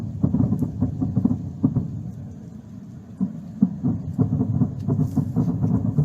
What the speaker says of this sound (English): it does sound like this is ammunition cooking off